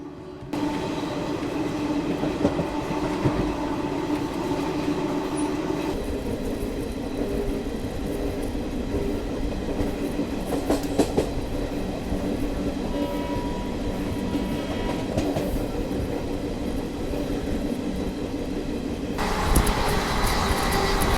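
An Indian Garib Rath express running from Chennai to Delhi, the longest of its kind, rolls on with a steady, loud rumble and rattle of carriages and wheels, unbroken and free of voices for the whole stretch.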